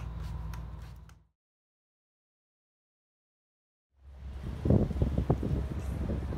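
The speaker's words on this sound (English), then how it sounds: "It's a pretty meh of a day. Yeah, mad windy." Strong wind buffets the microphone in rough gusts, cut by a stretch of complete silence before the blustery roar returns.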